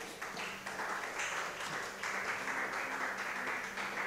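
A church congregation applauds together in a continuous, fairly distant wash of clapping that holds steady throughout, with no voices standing out.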